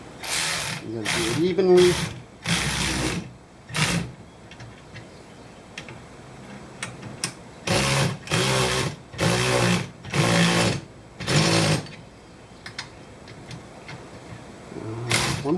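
Ratchet tightening bolts on the rear shock of a 2013 Can Am Spyder RT-S, bursts of rapid clicking repeated in short runs with pauses between, close up, with a few brief spoken words.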